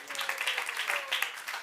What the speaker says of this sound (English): Applaud everybody.